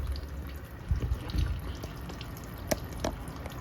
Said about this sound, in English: drops down into another smaller reservoir here, where the water pools and then flows back to the main tank